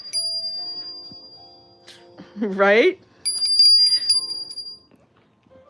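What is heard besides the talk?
small bell ringing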